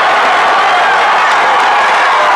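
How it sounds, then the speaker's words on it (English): A crowd at a strongman competition cheers and claps steadily for an athlete, a broad, continuous roar of applause with no clear breaks. "The crowd getting behind him here."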